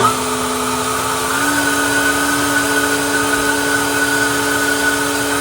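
Ego Commercial LBPX8006 cordless leaf blower running steadily with its trigger locked, a loud continuous electric whine and airy rush that steps up slightly in pitch partway through, then holds even with no voices.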